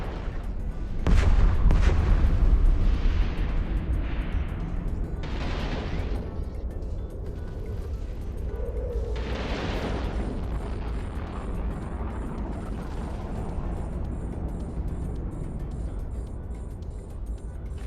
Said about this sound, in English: These guys are coming at me pretty fast, so I'm gonna shoot them now.